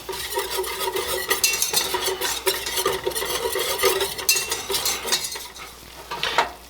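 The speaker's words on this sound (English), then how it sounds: "we're just going to whisk this together here for a minute." A flour mixture, with a tablespoon of flour just added, is whisked in a bowl in a home kitchen, giving a steady close scraping and rapid clinking of the whisk with faint sizzling beneath and no speech.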